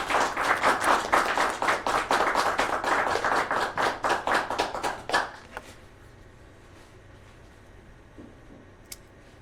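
An audience gives a burst of applause to welcome a speaker at a talk, dense clapping lasting about five seconds before it abruptly fades into quiet room tone.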